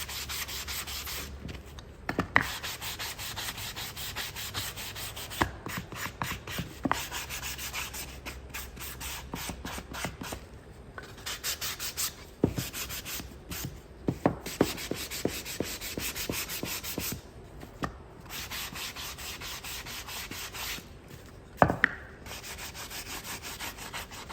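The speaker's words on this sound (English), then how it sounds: "I'm going to sand this piece, get the edges off." Sanding the edges of a painted wooden piece by hand: steady rasping strokes repeat across the whole stretch at close range, with a few sharper scrapes and no talking.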